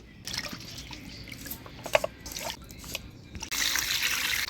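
Raw goat meat is rinsed under running water in a kitchen sink: a trickling, splashing stream with drips and handling knocks, louder and fuller toward the end.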